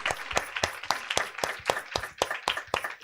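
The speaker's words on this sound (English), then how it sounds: "let's give them all a round of applause for being brave" An audience breaks into applause, a quick run of distinct, fairly soft handclaps spaced close together and steady, with no voices heard over them.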